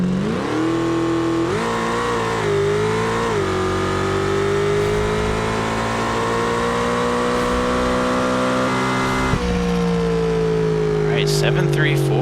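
A car launches off the line at a drag race in the BeamNG video game, its engine revving hard and climbing steadily in pitch through a long, loud, continuous pull with a brief shift-like dip.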